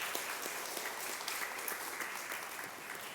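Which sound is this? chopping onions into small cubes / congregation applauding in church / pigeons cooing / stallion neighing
congregation applauding in church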